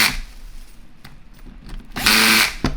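A power driver on its lowest setting tightens gasket screws in a crosswise pattern on an Ingersoll-Rand 2235TiMax impact wrench, with faint whirring and then a short loud close buzzing burst.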